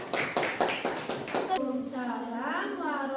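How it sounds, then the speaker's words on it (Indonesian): Students in a classroom applaud a presenting group with a short run of sharp, rhythmic claps that lasts about a second and a half, then a voice speaks. "Tepuk tangan untuk kelompok 3."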